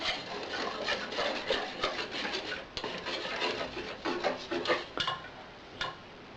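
A utensil stirs and scrapes briskly around a bowl of sourdough mixture for rye bread in uneven strokes, close up, with clinks against the sides and no voices.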